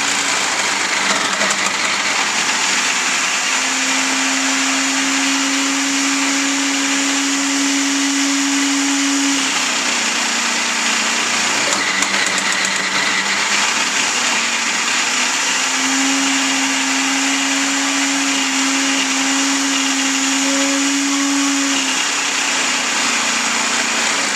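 Blocks of cheese being ground for mac and cheese, with a loud, steady motorized whine that rises in pitch during two long stretches and drops back between them, close by with no talking.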